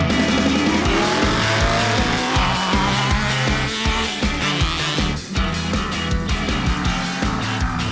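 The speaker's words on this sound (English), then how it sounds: "The short course is always just a ball out there, door-to-door racing." Off-road race cars battling door to door on a short dirt course, engines roaring loud and close with rising revs, gear changes and tyre scrabble layered continuously throughout.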